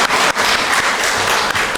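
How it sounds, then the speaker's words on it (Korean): A church congregation at a Sunday worship service claps together as a blessing, a loud, dense burst of applause that continues without a break. "네, 우리 박수로 축복하도록 하겠습니다."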